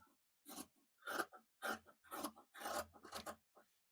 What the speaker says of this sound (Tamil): இப்ப இதை வந்து கட் பண்ணி எடுத்துக்கலாம்.